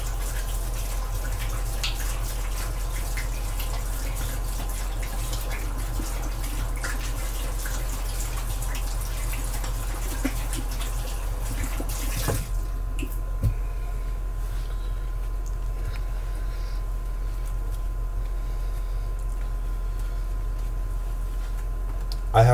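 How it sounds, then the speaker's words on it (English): Water runs from a kitchen tap as hands are washed, a steady soft splashing hiss that cuts off about halfway, leaving quiet room tone with a few small knocks. "Just gonna give my hands a little wash."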